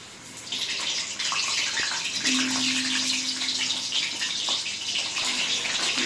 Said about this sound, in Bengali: আলুটাকে আমি লাল করে একদম ভেজে নেব